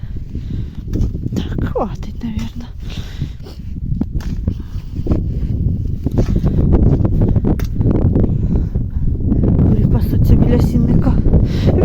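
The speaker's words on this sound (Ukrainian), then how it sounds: "вітер піднявся." Gusty wind buffets the microphone in steady low rumbling bursts, with brief rustling and a few faint knocks throughout.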